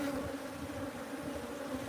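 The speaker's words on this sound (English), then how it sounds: "I think the bees are sensing that spring now is officially here" A pre-existing honeybee colony buzzes around its hive box at a bee sanctuary in the spring warmth, a steady, unbroken close drone with no talking over it.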